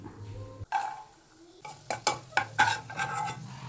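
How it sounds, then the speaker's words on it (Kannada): Cashews and raisins frying in ghee in a pan, with metal spoon stirring and scraping, a few sharp clinks against the pan, and a soft sizzle underneath, heard up close with no talking. "ಈಗ ಅದೇ ಬಾಣಲಿಗೆ ಎರಡು ಸ್ಪೂನಷ್ಟು ತುಪ್ಪ ಹಾಕ್ಕೊಂಡು ಗೋಡಂಬಿ ಮತ್ತು ದ್ರಾಕ್ಷಿನ ಉರ್ಕೊಳ್ತೀನಿ"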